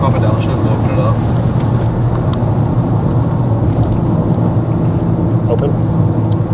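A Dodge Charger with a universal valved exhaust, valves opened while accelerating, gives a loud, steady, deep rumble and drone that fills the whole stretch without a break.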